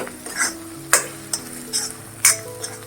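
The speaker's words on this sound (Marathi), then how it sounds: "हे बघा आता बाजूनी कसं तेल सुटत चाललंय दोन मिनटं परतत राहायचं" Green chilli thecha stirred and sautéed in oil, with soft frying sizzle under a few irregular clicks and scrapes of a spatula against the pan.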